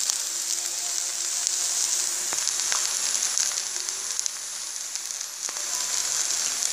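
Dried red chili added to a hot pan of oil while cooking dahi bhindi (okra in yogurt), making a steady, bright sizzle with crackling pops throughout, close and unbroken.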